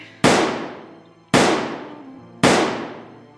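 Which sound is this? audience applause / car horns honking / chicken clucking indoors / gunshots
gunshots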